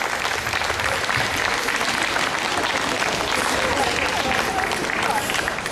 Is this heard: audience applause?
yes